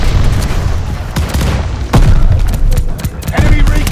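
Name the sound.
friendly firebombing run explosions in a video game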